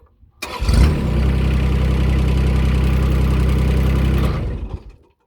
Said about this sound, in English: It is a diesel. Starts up really easy.